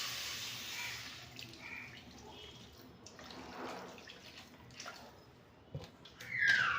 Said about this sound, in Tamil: இப்போது 1 கப் வந்து தண்ணி சேர்த்துக்கலாம்.